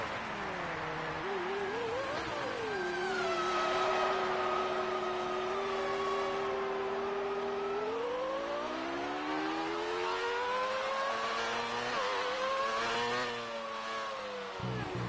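A Formula One car engine in a racing game, a continuous high whine whose pitch holds steady, then sweeps and climbs through gear changes, loud and close throughout with no talk.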